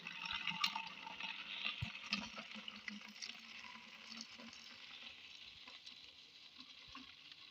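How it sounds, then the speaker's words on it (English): Homemade mopping air freshener liquid is poured into a 1 liter keg, making a steady, soft splashing hiss that runs throughout and slowly eases off, with a few light knocks and no talking. "So, I'll get my 1 liter keg and I'll pour it in"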